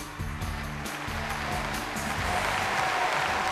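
Studio audience at a family variety show applauding, a dense, steady burst of clapping that keeps going for the few seconds, with no voice over it.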